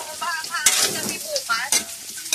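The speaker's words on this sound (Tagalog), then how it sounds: "At hinulog na ang bawang at sibuyas doon sa pinamantika ang taba-taba ng baboy." Garlic and onion sizzle in rendered pork fat as taro is added, with stirring and bursts of frying hiss rising and falling, close and moderately loud, with no talking.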